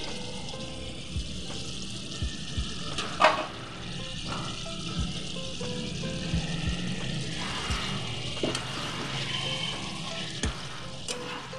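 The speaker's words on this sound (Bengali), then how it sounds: "এবার আমি আমার আন্দাজ মতো আমি জল দিয়ে দিচ্ছি।" Water is poured into a simmering fish curry in a pan, giving a steady splashing sizzle with occasional clinks of a utensil against the pan, under a continuous kitchen hiss.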